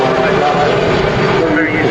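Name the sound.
airliner taking off on a short flight to Belfast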